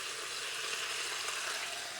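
Beef searing at high heat in a pan on a Rayburn cooker, a dense, vigorous continuous sizzle, close and steady with no talk.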